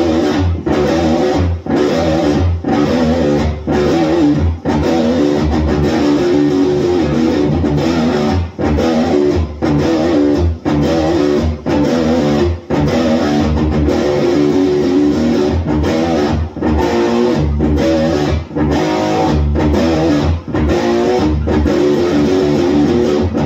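Electric guitar in D standard tuning playing a riff: loud, dense, chugging rhythm with brief stops, continuing for over twenty seconds with no voice.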